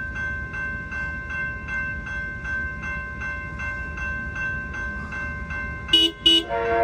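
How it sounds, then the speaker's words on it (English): An Amtrak San Joaquin passenger train rolls past in a railroad quiet zone in Fresno, California, its wheels clacking steadily and rhythmically before the horn sounds in two loud, short honks near the end. "Honking in the quiet zone."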